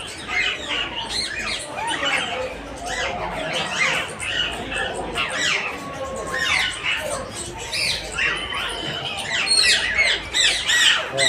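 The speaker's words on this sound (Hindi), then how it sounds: "इसको बटरीगर बोलते हैं, जो कि अपना जीवन काल पूरा का पूरा स्थावर पक्षी रहता है" Budgerigars squawking and chattering continuously in an aviary, a busy flock of shrill, overlapping chirps and squawks close by, with faint speech-like murmuring beneath.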